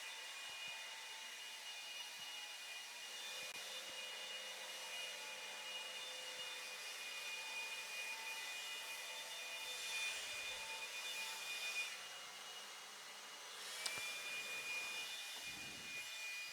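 Handheld blowers run by marshals to clear a dirt race track after a two-wheel modified race, a faint steady whine and rush with slight swells, heard from a distance with no talking.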